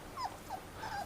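Faint, high whimpers from a puppy outdoors where monkeys are about, three short thin cries spread across a second over quiet background noise.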